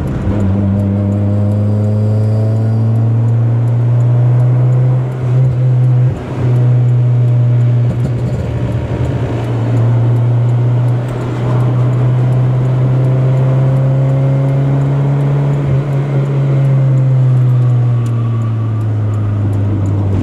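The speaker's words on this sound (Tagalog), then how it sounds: "From 5th gear to 3rd gear." A 1997 Honda Civic EK sedan engine drones steadily at close range, its pitch dipping and rising as it downshifts from fifth to third gear, with road noise and a brief lull midway.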